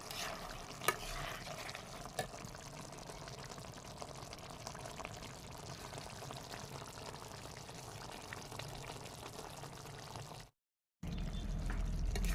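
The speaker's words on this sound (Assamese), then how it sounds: "এইফালে কচু ফুল আৰু কুকুৰা মাংস খুব ধুনীয়াকৈ উতলি আছে" Taro flower and chicken curry bubbles in a pot with a continuous soft boiling hiss and occasional clinks, broken by a short gap near the end.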